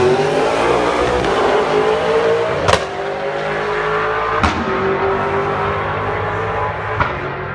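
V8 Supercars race cars at Townsville practice blast past, a loud sustained engine roar with rising pitch and three sharp gear-change cracks, no voices.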